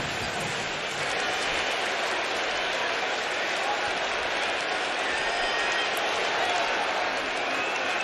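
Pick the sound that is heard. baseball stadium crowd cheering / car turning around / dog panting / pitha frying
baseball stadium crowd cheering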